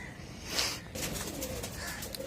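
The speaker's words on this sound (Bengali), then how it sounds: "আর এগুলো হইলো আমার মাদি কবুতর" Domestic pigeons cooing at a rooftop loft with around fifty birds kept, soft murmuring coos under a steady outdoor background, with no talk.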